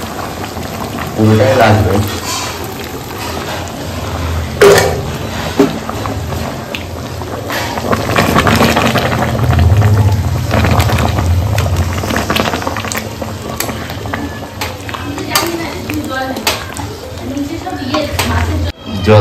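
Hot water pours into a pot of cooking mutton, giving a steady, close liquid rush and bubbling along with clinks of metal utensils. Someone talks briefly over it.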